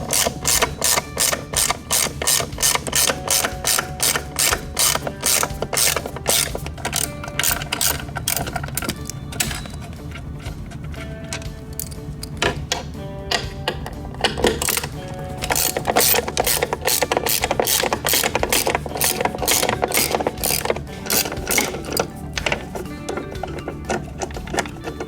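A ratchet clicks in rapid repeated bursts while backing Allen screws out of a Grammer MSG75 seat. The sharp mechanical ticking is close and loud, with short pauses between runs.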